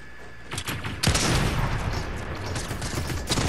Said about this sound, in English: Damn, I'm getting shot at.